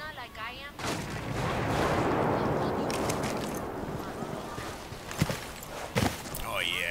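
A frag grenade blows up in the Tom Clancy's Ghost Recon Wildlands video game, a loud rumbling blast that fades slowly, followed by a couple of sharp gunshots.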